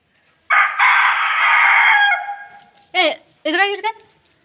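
A rooster crows loudly and close by, one long drawn-out call followed by two shorter broken calls.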